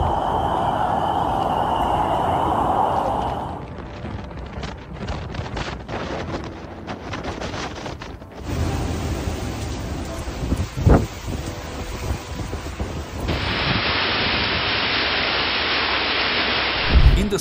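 A storm in the south of Great Britain brings heavy rain and strong wind, a dense roar of rain and gusts buffeting the microphone, broken by a sharp, close thunder crack partway through.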